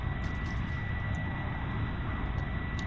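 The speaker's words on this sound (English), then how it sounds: "There's a Boeing coming under it." A Boeing airliner flies overhead in a military video game, a steady, moderately loud engine drone with a low rumble that holds constant throughout and no talk.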